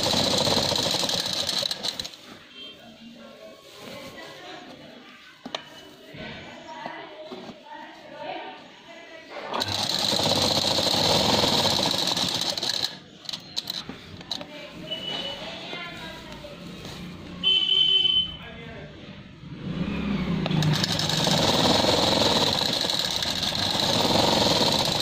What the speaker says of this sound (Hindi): अब हम इसकी स्टिचिंग करेंगे पहला इनर की।